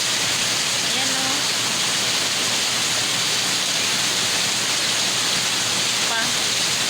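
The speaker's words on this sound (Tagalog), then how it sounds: "Lakas ng ulan sa labas" Heavy rain pours steadily outside in the NCR, Philippines, as a dense, constant hiss, with faint indistinct sounds underneath.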